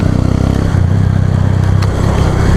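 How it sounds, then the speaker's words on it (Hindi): Traffic on a road toward Kasauli, a close, loud vehicle engine throbbing steadily with a passing whoosh, dense low rumble over brief, with no talking. "यहाँ पे गाड़ियाँ बहुत आ रही है इस टाइम"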